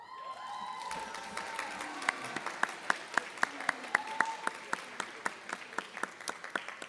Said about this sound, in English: I would also ask that you clap for the folk that got you here.